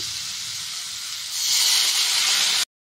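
Water hits a hot pan of fried fish while a curry is made and sets off a steady hiss. The hiss swells into a louder sizzling rush of steam partway through, then cuts off abruptly, close up with no voices.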